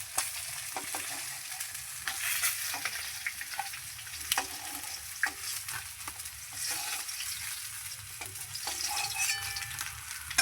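Pieces of rohu fish fry in hot oil, giving a steady crackling sizzle with scattered pops and occasional soft clinks of a utensil, heard alone at moderate volume.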